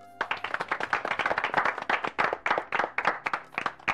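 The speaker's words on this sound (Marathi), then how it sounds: "त्यामुळे एकदा त्यांच्यासाठी जोरदार टाळ्या." A group claps for the children in dense, rapid, slightly uneven rhythm, close and lively across the whole stretch with no talk over it.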